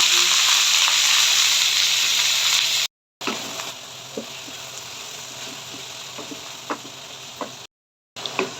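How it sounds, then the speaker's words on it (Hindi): Sliced onions fry in hot oil in a kadai, a steady loud sizzle with small crackles and ticking pops, cut by two brief gaps of silence, as part of a degi-style chicken korma. "प्याज को करेंगे फ्राई।"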